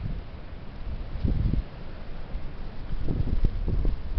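Heavy wind buffets the microphone in low, uneven rumbling gusts, with stronger bursts rising and falling over a few seconds, with no one talking.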